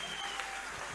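Church congregation applauding during a worship service, a faint, steady wash of clapping from a crowd with no distinct individual claps standing out.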